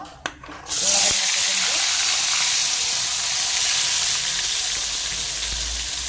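Cooking oil heating in a pan with turmeric powder sprinkled in, a sudden loud hiss that settles into a steady, close sizzle after a couple of soft clatters.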